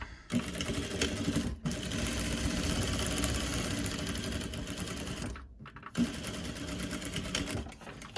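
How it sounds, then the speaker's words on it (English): A sewing machine stitches a fabric face mask in a steady, close mechanical whir that stops briefly twice before running on. "I definitely wanna sew to the end, both ends, because that's important."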